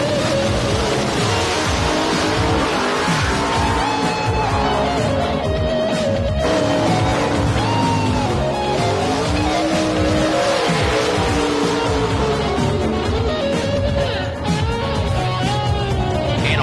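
Nitrous-equipped drag race cars, among them a new Ford Probe, roar loud and close, with rising and falling engine pitches and squealing tires sustained without a break.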